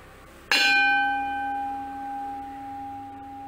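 A traditional bronze uruli cooking vessel struck once: a sharp metallic hit blooms into a sustained, bell-like ring with bright overtones that slowly fades, heard alone and close.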